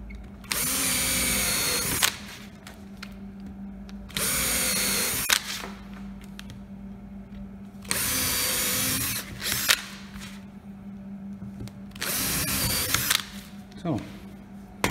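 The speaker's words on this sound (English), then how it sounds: "then we drill the hole." A power drill whirs through aluminium sheet metal in four bursts of about one to two seconds each, separated by quiet pauses with faint clicks and handling noises.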